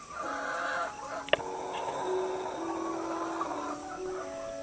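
Chickens cluck and murmur softly at a distance in a quiet outdoor spot, a low continuous chorus broken by one sharp click, with no talk.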